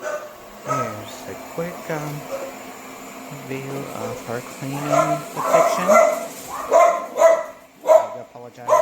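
Dogs bark and yip at a robot vacuum cleaner working through a home, the barks sharp and intermittent, growing louder toward the end, heard beneath a person talking over the steady hum of the machine.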